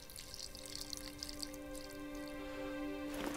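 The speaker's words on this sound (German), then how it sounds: "Jetzt können wir uns mal ein bisschen Wasser holen hier, oder?" Water drips and splashes softly while water is fetched in the Enigmatis 3 puzzle adventure game, a few light drops over a steady, sustained musical drone.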